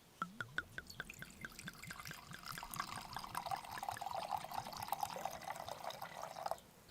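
Wine pours steadily into a metal cup, starting with distinct drips and building into a continuous splashing fill that stops abruptly.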